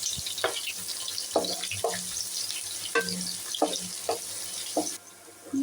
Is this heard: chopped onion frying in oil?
yes